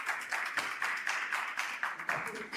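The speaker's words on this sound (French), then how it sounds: "Vous pouvez l'applaudir, s'il vous plaît." A studio audience claps for a guest who has just left, a steady patter of hand claps with irregular peaks, fairly close and continuous through the short stretch.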